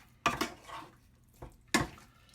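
A wooden spoon scrapes and clacks against a pan while chicken fillets with turmeric are stirred, three distinct nearby scraping strokes separated by brief quiet gaps.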